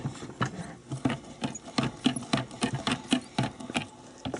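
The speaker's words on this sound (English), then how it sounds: "That click that you're hearing, I think one of the screws is just out a hair more than it should be." Rhythmic clicking from a slightly protruding screw on a spinning Wimshurst machine disc, a steady run of evenly spaced ticks about every half second, close and fairly quiet with a soft mechanical whir underneath.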